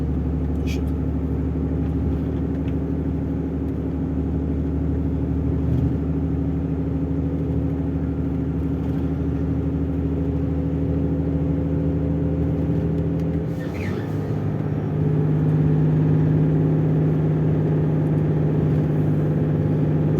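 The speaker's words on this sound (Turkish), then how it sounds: "3 kademe motor freni artı ayak freni" A heavy truck descends the Bolu mountain road using a three-stage engine brake, giving a loud, steady low drone of engine harmonics that dips and shifts pitch briefly partway through, with a faint voice underneath.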